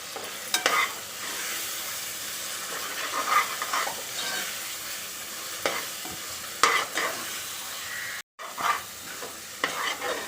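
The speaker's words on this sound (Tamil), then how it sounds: "தக்காளி நல்லா மசிஞ்சு வர அளவுக்கு நம்ம நல்லா இதை தக்காளியை வதக்கிக்கலாம்" Tomatoes are sautéed in a pan for prawn biryani, with a constant sizzle and frequent scraping strokes of a spoon stirring. There is a brief silent gap near the end.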